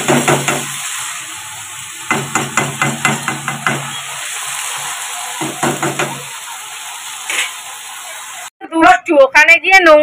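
Katla fish curry with cumin, potato, onion, tomato and green chilli cooking in a home kitchen, with a steady sizzle and repeated bursts of knocking and stirring against the pot, followed by someone talking near the end.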